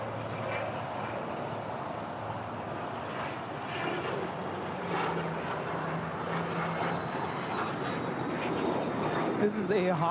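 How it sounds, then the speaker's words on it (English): Hawker 900 XP business jet departing from LAX, a steady moderate engine roar with broadband rush heard at a distance, a voice talking over it. "This is a Hawker 900 XP departing to Boeing Field."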